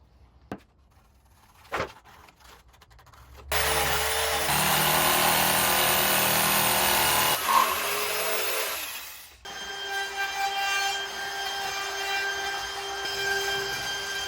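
Power saw cutting wooden boards for the top of a backyard arbor, a loud sustained cut of several seconds followed by a steadier tonal machine whine, with a few sharp knocks before it.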